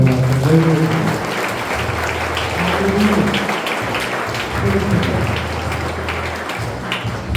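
An audience at a church youth retreat applauds in a steady, even rattle that lasts several seconds, with a low hum underneath.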